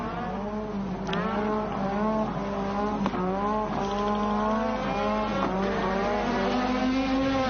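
Formula 1 race cars at the 1985 Belgian Grand Prix, engines screaming with wavering, rising and falling pitch as wheels spin and tires smoke after a pit stop, loud and continuous with no talk.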